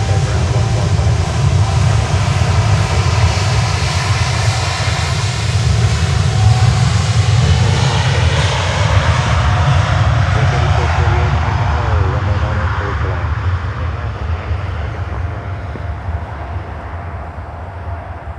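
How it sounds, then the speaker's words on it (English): Steady, loud roar of a Lufthansa Boeing 747-8 jet's engines, a broad continuous rumble that holds for the whole stretch and eases slightly toward the end. "Lufthansa 747-8 back to Frankfurt, Germany."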